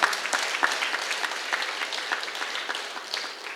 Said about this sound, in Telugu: ఒకసారి గట్టి క్లాప్స్ కొడదాం